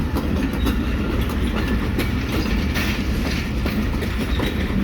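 Old passenger coaches of the 28 Down Shalimar Express rolling along rails, a steady loud rumble with rhythmic clickety-clack of wheels over joints, close by and continuous without any talk.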